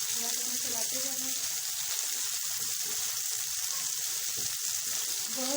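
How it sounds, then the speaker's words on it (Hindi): Tomatoes lightly frying in a pan for a chicken jalfrezi, giving a steady soft sizzle throughout with faint scraping and low background noise, no talking. "थोड़ा सा इसे अब इनको हल्का सा फ्राई कर लेना है, तकरीबन 2 से 3 मिनट"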